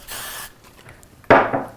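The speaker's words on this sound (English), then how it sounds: "And you can spray it" Two short bursts of hairspray from an aerosol can, a softer hiss first, then a louder, sharper spray after a brief pause, close by, during cheer hair styling.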